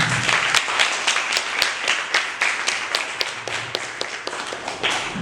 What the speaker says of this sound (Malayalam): വന്ദനയ്ക്ക് നല്ലൊരു ക്ലാപ്പ് കൊടുത്ത്